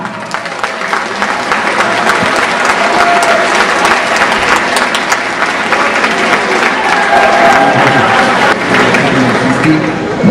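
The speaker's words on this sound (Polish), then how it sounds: "Przywitajmy wielkimi brawami Maciej Kuciapa!" An audience in the Galeria Olimp shopping centre applauds to welcome speedway rider Maciej Kuciapa at the KMŻ Lublin team presentation. Loud, dense clapping with crowd noise runs without a break for the whole stretch.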